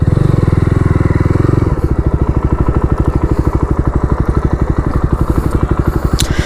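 A 2025 Jawa 42 Bobber motorcycle rides along with a loud, close, steady single-cylinder engine thump that shifts to a rapid rhythmic pulse after a moment, running continuously throughout.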